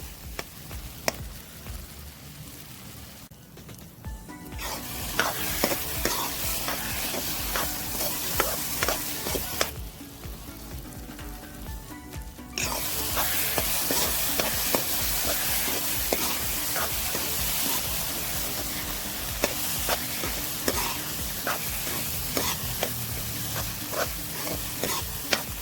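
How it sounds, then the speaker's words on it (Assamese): A tomato and spice mix fries over low-medium heat in a pan for a kidney bean curry, a dense continuous sizzle broken by frequent scraping and tapping strokes of a spoon, with two brief quieter gaps, close and without talk. "এতিয়া আমি ল' মিডিয়াম হিটত 5 মিনিটমান ভাজিম"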